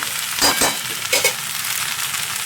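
Ridge gourd (dhundul) bhaji frying dry in a pan, a continuous loud sizzle with a few stirring scrapes near the start, close up.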